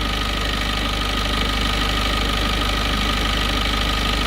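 A 2018 Peugeot Expert van engine running at idle, being checked for a camshaft position sensor fault; a loud, steady, close mechanical drone with a faint knocking pulse and no talking.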